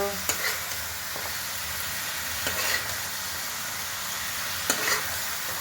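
Vegetables with tomato fry in a pan with a steady soft sizzle, while a utensil stirs and scrapes in a few light taps, all fairly faint and without voices.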